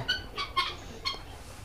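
Japanese quail on a farm give a few short, close chirping calls in quick succession over faint background noise.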